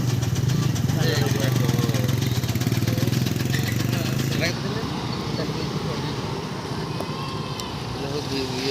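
A motorcycle engine rumbles close by on a street during a 12-hour shutdown in Nilgiri, Balasore. It is loud and throbbing for the first half, then fades to a softer drone while people talk.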